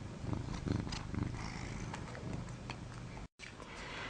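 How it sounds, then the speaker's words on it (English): A cat named Gus purrs softly and steadily while receiving subcutaneous fluids at home, a faint, close, rhythmic rumble with a brief dropout near the end. "you might be able to hear him purring."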